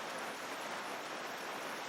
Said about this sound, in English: It rains all night